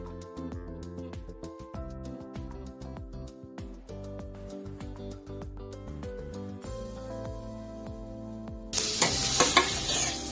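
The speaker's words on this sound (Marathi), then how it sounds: "आता आपण पनीर ज्या कढईत तळले त्याच कढईत भाज्या पण थोड्या शिजवून घेऊ" Background music plays throughout, then near the end a loud, hissing burst of vegetables frying in a hot kadhai, the one just used to fry paneer, cuts in.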